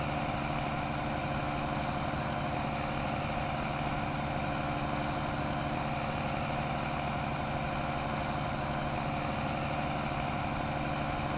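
Tractor engine idling in Farming Simulator 19, a small yard-and-shop type tractor, giving a steady low rumbling drone that holds evenly throughout with no talk over it.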